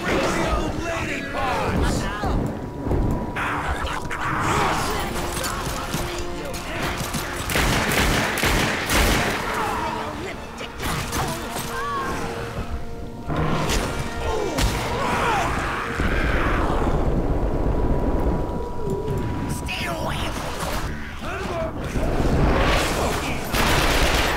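Bursts of gunfire from The Darkness 2 crackle almost nonstop through a loud, busy stretch, with players talking over the shooting and occasional crashes and booms mixed in.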